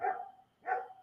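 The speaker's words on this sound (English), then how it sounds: "Oh, I really apologize for that dog." A dog barks twice, two sharp woofs about half a second apart, fairly loud and close, with no talking over them.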